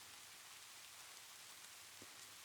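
Steady rain falls in a continuous, even hiss through the whole stretch, with a single brief low thud near the middle and no voices.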